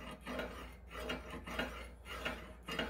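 A screwdriver edge is run repeatedly over the sharpened edge of a woodworking tool during bow building, giving close, rhythmic rasping strokes roughly twice a second.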